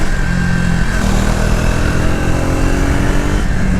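A Triumph Speed 400 motorcycle engine drones steadily while riding, a loud continuous mid-pitched hum with a slight shift in tone partway through, close and without pauses.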